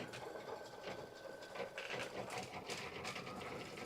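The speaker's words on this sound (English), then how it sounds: "I'm just going to hit go on this one, and it will quilt just like it's quilting hers" A quilting machine stitches a 60-degree table runner with a steady mechanical whirr and rapid needle clatter, moderately close and continuous, with no speech.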